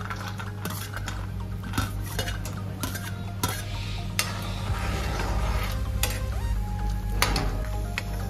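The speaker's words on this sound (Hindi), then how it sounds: "ऐसे ही हम काजू को भून लेते हैं।" Cashews roasting in a pan, a soft sizzle under repeated clinks and scrapes of a spoon stirring against the metal in an irregular rhythm, close by and with no talking.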